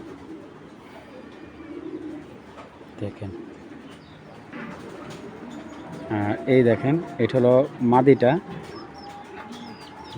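Imported racing pigeons coo in a short burst of throaty calls near the end, following quieter handling noises, with someone talking nearby.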